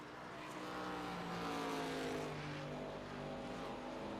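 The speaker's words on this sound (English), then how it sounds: "furiously downshifting through the corners" Race car engines drone in the iRacing sim during a race at Suzuka Circuit, a faint, steady layered engine hum under a quiet broadcast mix.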